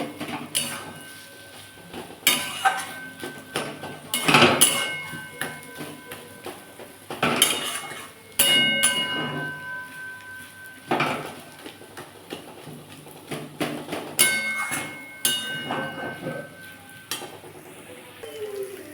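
Boiled potatoes being mashed in a metal pan for rohu fish chops, with repeated scraping and clattering of a utensil against the pan in uneven bursts, close and moderately loud, no talking.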